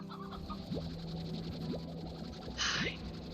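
Chickens in the video game Slime Rancher give a few short, soft clucks spaced about a second apart over quiet game ambience, followed by a brief hissing burst.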